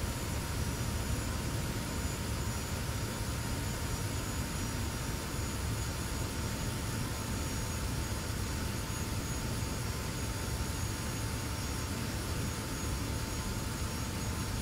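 A jet aircraft in a flight simulator game gives off a constant, loud engine roar with a steady high whine, unchanging throughout and free of voices.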